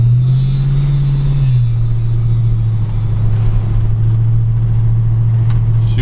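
A 1956 Ford F100 big-window pickup with a 351C V8 and AOD transmission cruises down a street, its engine a loud, steady low rumble that shifts pitch once early on and then holds a smooth drone.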